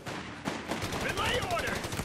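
Rapid bursts of machine gun fire crackle in a World War II battle in Company of Heroes 3 during an attack near Monte Cassino, Italy, with shouted soldier voices over the gunfire.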